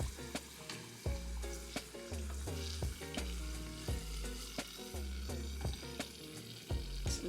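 Beef empanadas, fried Latin pastries, bubbling in hot oil with a loud steady close sizzle, punctuated by regular low thumps and clanks as they are moved and turned, no voices.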